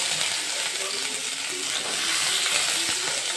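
Bitter gourd frying in a pan makes a steady, loud, close sizzle that runs the whole time with no pauses, and a faint scrape of stirring comes through now and then.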